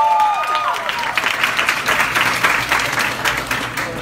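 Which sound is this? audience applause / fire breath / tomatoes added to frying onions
audience applause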